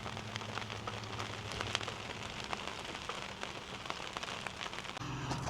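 Steady rain falls during a storm, a dense continuous patter of drops on surfaces with a constant low hum underneath, even and moderately loud throughout with no voices.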